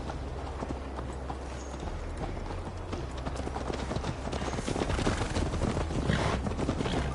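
Horse hooves clip-clop steadily and fairly close in Assassin's Creed Valhalla, a continuous galloping rhythm with a low droning background and some clatter, growing slightly louder toward the end.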